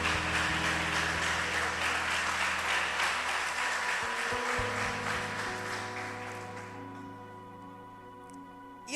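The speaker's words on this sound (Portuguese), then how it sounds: "Vamos ficar de pé e dar um aplauso ao Senhor?" A church congregation stands and applauds in praise, a dense steady clapping that fills the room before gradually thinning and fading toward the end, with sustained musical tones beneath.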